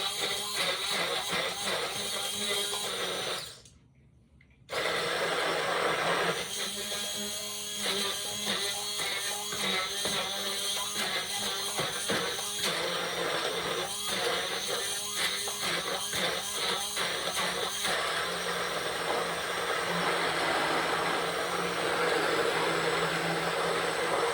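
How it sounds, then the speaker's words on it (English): A handheld blender whirs loudly and continuously as it purees beans, its motor pitch wavering, with one short pause before starting up again. "Take your immersion blender, your regular blender, and you're going to puree them"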